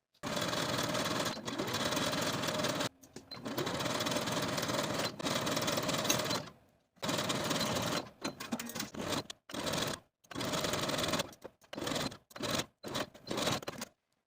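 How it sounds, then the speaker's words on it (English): A sewing machine stitches darts through two layers of jersey fabric for a 1970s vintage wrap dress. Close, whirring bursts of rapid stitching, some long and some short, are broken by brief silent pauses. "Then we're going to take it to the sewing machine and sew through both layers for all the darts"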